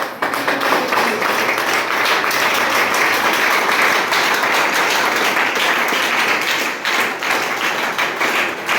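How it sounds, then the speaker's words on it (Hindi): Loud, sustained applause from an audience at a motivational teaching event, dense clapping filling the hall steadily throughout with no break. "जोरदार ताली आप बजाइए"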